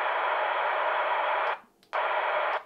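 Steady hiss of radio static from a mobile ham radio's hand microphone speaker fills the clip, cutting out briefly in the middle before resuming at the same level.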